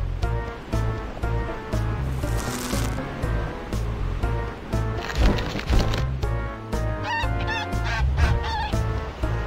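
A golden goose in the video game American McGee's Grimm, Jack and the Beanstalk episode, honks repeatedly in short bursts amid game music and wooden clattering effects.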